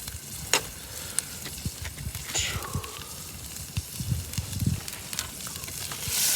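Herb and garlic butter sizzles and crackles in a hot pan at a campout, ahead of a steak being laid in; a steady frying hiss runs under scattered sharp pops and clinks, with no one talking.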